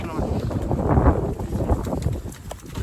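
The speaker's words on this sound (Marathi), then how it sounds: "इकडं भयंकर वारा पण सुटलेला आहे" Strong wind buffets the microphone on a farm in the evening with a constant low roar and rumble, with a person speaking underneath.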